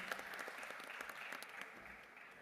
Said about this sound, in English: Let the claps keep rolling